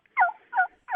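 A hand-operated turkey call imitates a gobbling turkey with three short, rhythmic bursts of raspy yelps, close and fairly loud, separated by brief silences.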